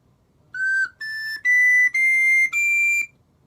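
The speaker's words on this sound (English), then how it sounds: "As I cover few of the holes, the tube gets shorter, and so the note gets higher." A recorder plays five separate sustained notes, each a step higher in pitch than the last, clean and clear in a quiet room with no talking.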